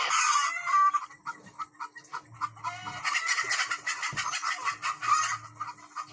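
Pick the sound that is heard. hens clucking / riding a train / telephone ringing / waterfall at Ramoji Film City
hens clucking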